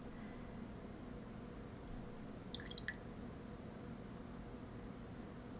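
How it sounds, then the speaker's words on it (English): Paint dripping off a brush into a water jar, a brief cluster of small wet drips around the middle, faint against a steady hiss of background noise. "The drips off of the brush."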